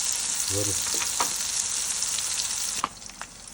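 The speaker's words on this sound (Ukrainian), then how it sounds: "обжарили з однієї сторони, перевернули" King oyster mushrooms fry in a pan with a steady bright sizzle, a brief low tone early on and a couple of light utensil clicks near the end.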